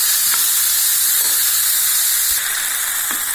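Tomatoes and curry leaves saute in a hot pan for a masala kulambu, giving a loud, steady sizzling hiss with occasional stirring scrapes and no talk.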